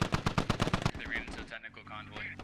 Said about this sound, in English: El Zabrowski's firing